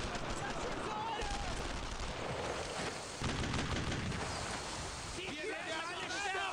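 Dense gunfire in the Brothers in Arms: Road to Hill 30 World War II shooter, with rapid machine-gun bursts and scattered rifle shots crackling continuously, loud and close, while soldiers shout over the battle.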